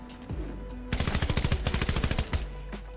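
Rapid automatic gunfire rings out in Fortnite. It comes as a loud burst of around a dozen closely spaced shots, with quieter game ambience before and after.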